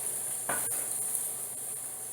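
Onions fry in about two tablespoons of hot oil, giving a quiet, steady hiss with a couple of faint pops and a light stirring scrape.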